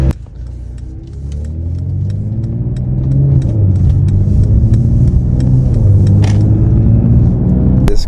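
A 2023 Mercedes-AMG GLE 53 Coupe cruises with a steady, close engine and road rumble that swells slightly as it pulls and accelerates, with no talking over it.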